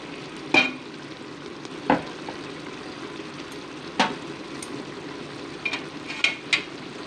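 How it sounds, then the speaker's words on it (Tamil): Ginger, garlic and green chili paste sautéing in a pan for mutton biryani, a steady low sizzle with a few sharp scraping stirs of a spoon at intervals, close and moderately quiet with no talking. "இஞ்சி, பூண்டு, பச்சை மிளகா பேஸ்ட்டோட ஸ்மெல்லாம் போகும்போது நல்லா வதக்கி விட்டுடலாம்"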